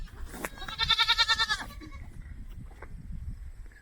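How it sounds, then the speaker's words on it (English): A goat on a family homestead gives one loud, wavering bleat lasting under a second, close by, followed by quieter outdoor background with wind rumble. "I can hear the goats over there tormenting, They're calling Karma."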